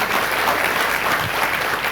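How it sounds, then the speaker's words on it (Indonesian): A church congregation applauds in praise of God, a steady, dense wash of many hands clapping at moderate volume with no voices standing out. "Tepuk tangan bagi Allah kita"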